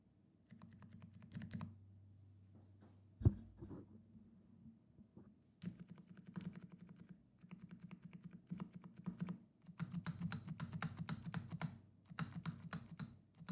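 Clicky mechanical keyboard, newly assembled, being typed on in bursts of close, sharp key clacks, with a short pause and a single loud thump partway through before steady, dense typing resumes.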